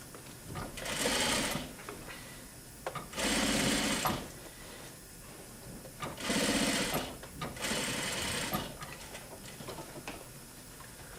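A sewing machine stitches piping onto chair upholstery in four sustained runs, its rapid mechanical whir starting and stopping with short quiet gaps between bursts.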